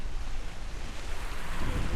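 Morning sea waves wash in at Thoothukudi beach, a steady surf hiss mixed with wind buffeting the microphone, swelling into a heavier surge near the end.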